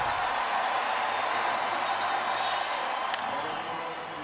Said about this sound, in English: And now the crowd gets into it.